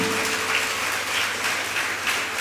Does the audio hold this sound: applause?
yes